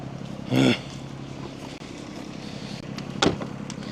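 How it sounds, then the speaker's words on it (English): A tractor engine runs steadily in a low, droning idle, with a couple of short sharper noises rising over the hum. "We can turn the tractor off."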